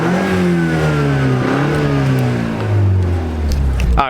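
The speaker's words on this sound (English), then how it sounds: "I'll give you guys some revs." A tuned car engine, either a Mustang EcoBoost or a BMW 428i M Sport, revs up and down close by, its deep rising and falling drone loud and continuous.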